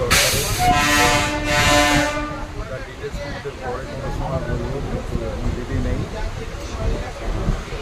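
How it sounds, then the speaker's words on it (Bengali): A local train rumbles along with a loud horn blaring twice at the start, then steady rolling clatter and rail noise continuing underneath. "লোকাল ট্রেন ধরে ট্রাভেল করছি"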